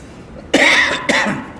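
During a Friday sermon in a mosque, a person in the audience coughs twice, loud and close, with a brief pause between the two harsh bursts.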